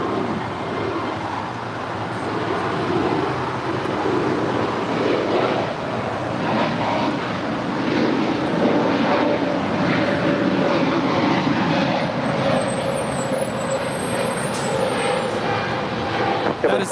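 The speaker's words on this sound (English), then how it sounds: "That is Spirit 643 departing to Chicago." Spirit Airlines flight 643 rolls for takeoff at LAX, a broad, distant jet roar that builds and holds steady for many seconds.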